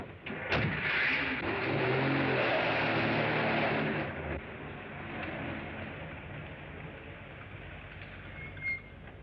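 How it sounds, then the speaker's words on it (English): A car accelerates away in pursuit in a scene from the 1936 film A Cry in the Night, its engine noise loud and steady for about four seconds before easing to a lower rumble. "Follow that car."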